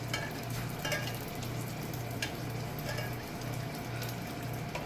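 Avocado jalapeno egg rolls fry in hot oil with a continuous close, busy sizzle and crackle and a low steady hum underneath, with no talking.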